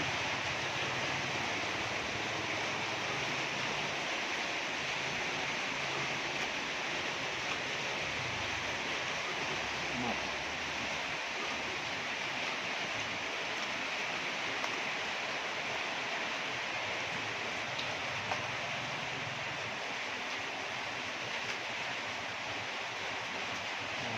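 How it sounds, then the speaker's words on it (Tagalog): Floodwater rushes into a house during Typhoon Carina, a continuous broadband hiss of pouring, splashing water with rain, steady and unbroken for the whole span. "pumapasok po kasi ang tubig dito sa loob."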